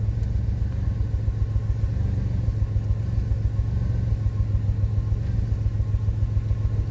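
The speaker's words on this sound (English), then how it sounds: "you can see it's still misfiring" 2005 Pontiac Grand Prix engine idling with a cylinder 1 misfire, a steady close rumble with an uneven, stumbling pulse throughout and no talking.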